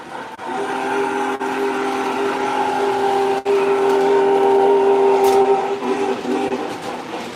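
An MTH model train runs steadily with a continuous mechanical hum and a faint chuff throughout, the tone sustained and fairly loud with a couple of brief dropouts along the way.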